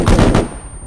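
Gunfire from the video game Arma III: a dense burst of loud, rapid shots for under half a second, then a fading echoing tail.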